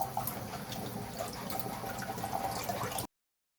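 Fabric rinsed under a running tap of cold water, a steady close splashing and trickling stream that cuts off abruptly near the end.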